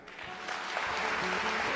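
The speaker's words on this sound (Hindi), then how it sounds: "अपने लिए ताली बजाओ" An audience at a spiritual discourse in Australia claps for itself, a brief burst of dense applause that swells and holds steady across the moment.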